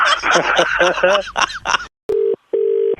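A rooster crowing sound effect, played during a Red FM 93.5 radio prank call, gives a loud run of warbling, gobbling fowl-like calls. Two steady, even telephone tones follow, separated by a short gap.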